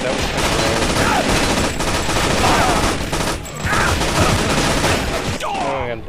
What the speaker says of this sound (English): That's way too many guys shooting at me.